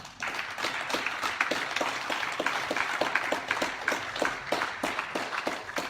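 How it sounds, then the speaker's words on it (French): A room full of people at a municipal council meeting applauds steadily, many hands clapping at once in a dense, even patter. "Je pense qu'on peut les applaudir."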